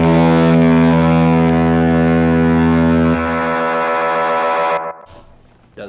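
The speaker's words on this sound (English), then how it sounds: "That makes a noise. The Havoc switch." The Havoc switch on a guitar effects pedal, in a fuzz-heavy board, produces a loud, sustained distorted drone like a foghorn that holds and steps down before cutting off abruptly, leaving a brief noisy tail.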